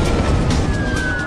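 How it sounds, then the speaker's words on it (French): A fire station emergency alert siren wails steadily and loudly under a continuous broad rumble, its rising tone sustained through the short stretch without any voices. "Quand Robert Hamilton, le chef des pompiers, entend l'alerte, il s'attend à un problème de taille."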